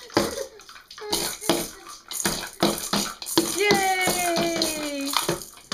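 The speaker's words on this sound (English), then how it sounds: "Show him how you kick and splash." A baby kicks and splashes in bath water, making repeated irregular slaps and sloshes close by, while adults talk and coax in the background.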